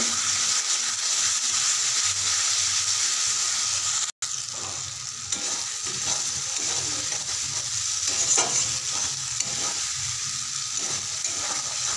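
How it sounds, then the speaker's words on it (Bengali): A pan of spices with half a spoon of turmeric and half a spoon of salt is being sautéed. It gives a loud, continuous frying sizzle with stirring, broken by one very brief dropout, and no voices. "দিয়ে ভালো করে কষিয়ে নেব।"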